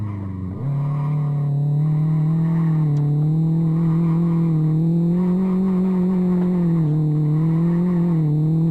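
A van in the Live for Speed racing game slides sideways under the handbrake, making a continuous loud engine drone with steady tire noise for the whole stretch, and no one talks.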